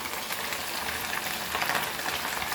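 Tiny motiyale fish frying in oil over a low flame, giving a steady, soft, even hiss with no voices.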